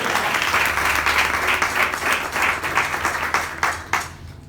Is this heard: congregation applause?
yes